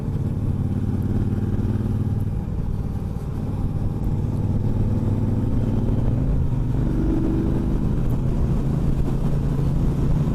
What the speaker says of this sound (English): It has the 1200cc Speedmaster twin engine in it. That's a parallel twin motor.